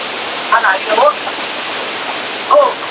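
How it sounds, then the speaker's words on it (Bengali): A waterfall near Cherrapunji on the way to Shillong pours in a steady, loud, hissing rush, with a few short voices breaking through briefly. "ঝর্ণার সাউন্ড শোনানোর জন্য এইভাবে বয়স দিচ্ছি"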